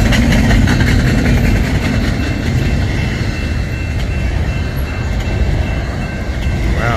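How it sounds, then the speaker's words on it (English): A westbound double-stack freight train hauled by two engines picks up speed close by, a loud continuous roar of heavy diesel engines and rolling wagons that holds steady throughout. "This was a westbound 2x0 stack train."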